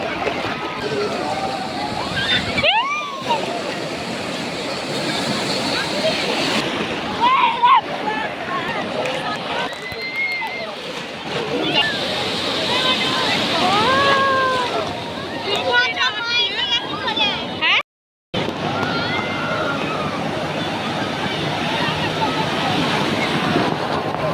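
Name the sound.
big sea waves breaking at Digha beach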